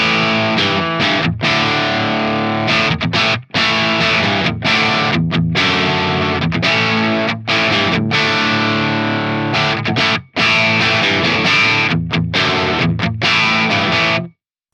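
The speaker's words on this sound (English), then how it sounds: "And then we have the old school crunch." Electric guitar through the old school crunch channel of an Amped Volcano amp, loud distorted chords struck in choppy bursts with brief silent gaps, continuing for about fourteen seconds with no talking.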